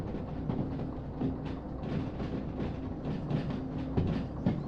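A train in the Derail Valley railway simulation rumbles along with a steady, close clatter of wheels and wagons, and no voices are heard.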